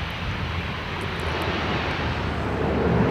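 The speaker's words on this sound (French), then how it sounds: "Chaque jour, un avion arrive de Sydney au Brisbane." Airplane on its daily flight from Sydney to Lord Howe Island, a steady broadband engine roar that holds level and swells slightly toward the end, with no voices.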